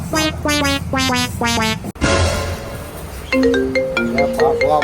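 A mobile phone plays a melodic ringtone of loud, repeating tonal notes. A brief noisy burst interrupts it midway before the tune resumes, with no talking over it.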